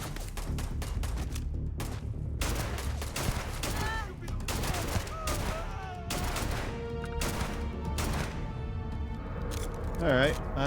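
Pistol gunfire rings out in the game Starfield as a string of sharp, separate shots in irregular bursts, mixed with game effects. Someone talks over the shots at times.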